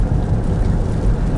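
Rain drums steadily on a car during a long drive near the Edgar ghost town, a dense close patter with low rumble and no talk.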